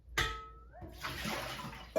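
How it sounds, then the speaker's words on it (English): Soaking water is poured off oranges left in it overnight for marmalade, a short splashing gush into a sink following a clunk and a faint tone, ending with another knock. "I just throw this water away."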